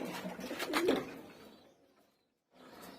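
Pigeons in a home loft give a soft burst of low cooing up close, then fall quiet briefly before faint cooing resumes.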